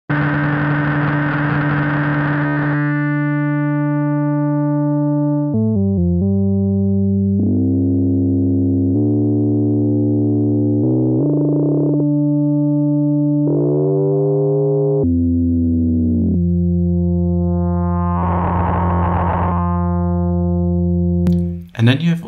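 Newfangled Audio Pendulate, a free Buchla-inspired synthesizer plugin, holds a buzzy tone that steps through changing pitches and timbres before rising into a hissing wash of noise, steady and loud with no voices.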